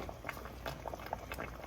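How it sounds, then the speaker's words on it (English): Cassava chunks boiling in a pot of water on a stove set to high, a faint, steady bubbling with irregular soft pops and gurgles. "Boiling time. I'm going to set the stove on high."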